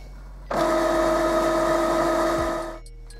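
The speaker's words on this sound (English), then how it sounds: "you hear it making some clicking and whirring sounds while it's performing the clean" An Epson Expression Premium XP-900 inkjet printer running a printhead cleaning cycle, its motor starting with a click into a steady, close, fairly loud whirring hum that runs for over two seconds before winding down, with no voices.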